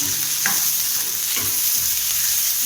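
Tomato chutney ingredients sautéing in a pan, a continuous close sizzle and fry with a few soft stirring scrapes, no voices.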